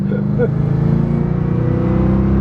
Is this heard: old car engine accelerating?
yes